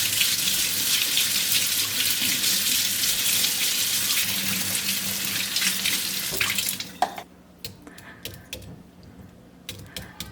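Potatoes being washed under a running kitchen tap, a loud steady gush of water for about seven seconds, then the flow stops and faint clunks and handling sounds follow.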